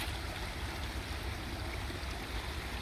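Creek water flowing along a trail, a steady close wash and gurgle with no pauses and no voices.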